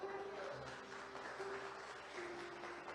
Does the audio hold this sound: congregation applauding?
yes